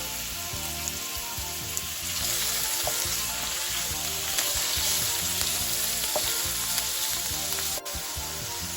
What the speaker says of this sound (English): While this is going to be frying, after frying this, I am going to add the vegetable and the onions.